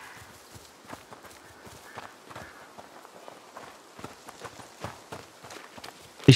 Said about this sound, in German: Ich sehe Pferdchen.